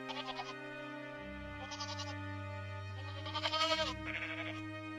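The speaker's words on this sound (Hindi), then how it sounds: "ये बकरियों की आवाज कहां से आ रही है?" Several goats bleat in turn, a string of quavering cries of varying pitch, one louder and closer near the middle, over a low steady drone.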